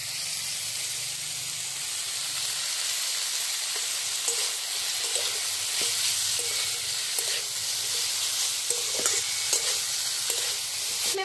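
Capsicum sautéing in a hot pan with a pinch of salt, cooked for a restaurant-style dry chilli chicken: a steady, close sizzle and hiss with scraping stir strokes that come and go throughout.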